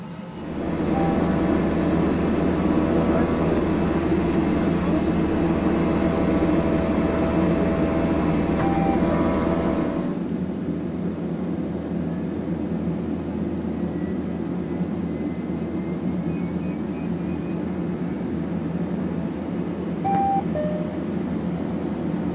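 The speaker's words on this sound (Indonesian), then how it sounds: "Udah nyala dua-duanya sekarang mesinnya." A steady, loud twin propeller engine drone from an Indonesian-built aircraft fills the whole recording, its tone shifting partway through as both engines settle into a smooth hum.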